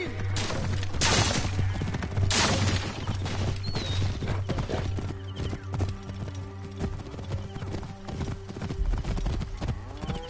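Racing horses gallop in Assassin's Creed Origins, a dense, rapid drumming of hooves under a low steady rumble, with brief bursts of noisy clatter and no speech.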